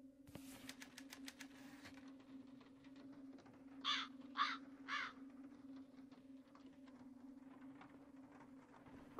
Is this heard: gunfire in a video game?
no